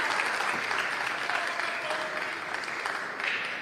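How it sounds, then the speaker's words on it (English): Crowd at a pool match at the Predator WPA World Teams Championship 2023, Philippines versus Spain, breaking into sustained loud applause and cheering that holds steady throughout, with a voice faintly underneath. "Big cheers from the Spain match now."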